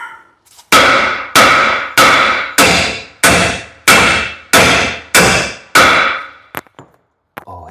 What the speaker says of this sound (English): I'm just kind of whacking it to see if I can get it to spin